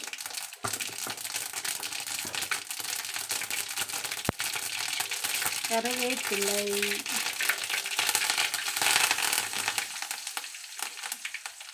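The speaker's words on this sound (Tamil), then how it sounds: "எண்ணெய் சேர்த்திக்கலாம். கடுகு நல்லா பொரியிட்டு" Mustard seeds spluttering in hot oil make a busy, continuous crackle and popping, fairly close, with a faint tonal sound partway through and no clear talk.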